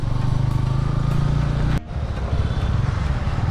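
A Bajaj Pulsar N150 motorcycle engine runs steadily with a loud, close drone in city traffic, a brief dip midway before the hum continues.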